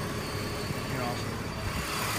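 A BMW 325iT engine idles with a low, even rumble and a steady hum, free of abnormal noises, while someone talks over it nearby.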